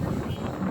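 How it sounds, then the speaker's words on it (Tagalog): Strong wind buffets the microphone with a low, continuous rumbling roar, no voices over it. "ang lakas ng hangin"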